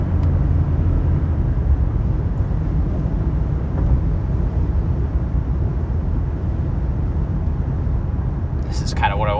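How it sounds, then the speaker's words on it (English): Inside a Lotus car cruising on the highway, a steady low road and engine rumble fills the cabin, with a constant broadband roar. A brief warbling electronic sound appears at the very end. "I wanted to see like how loud is it at highway cruising."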